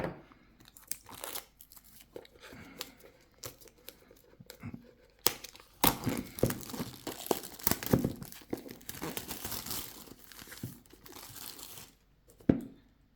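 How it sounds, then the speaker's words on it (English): Scissors snipping and crinkling through the plastic wrap on a Huawei Watch Buds box, with irregular cuts, crackles and rustles close up and no talking. "So then let's cut here the plastic."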